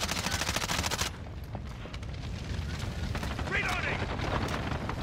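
Gunfire in Call of Duty: Modern Warfare: a dense, rapid burst of automatic fire opens the moment, then gives way to scattered lighter shots and mechanical clatter under a murky battlefield rumble.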